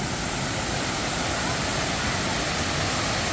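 Khlong Lan waterfall in Kamphaeng Phet pours in a loud, continuous roar of rushing water, a steady broadband wash that stays close and fills the whole moment.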